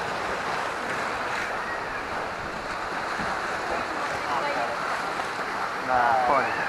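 Choppy water slapping and rushing around a raft on the Kali River Rapids ride, steady wash of churning water and wind buffeting the mic, with voices talking over it.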